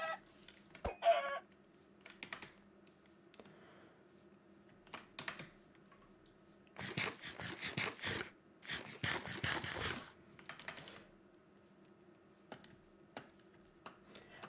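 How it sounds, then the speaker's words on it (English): Mostly steady keyboard clatter, with a few quick clucks from a Minecraft chicken (Highworlds SMP) early on, plus clusters of dense game noise in the middle. "chicken!"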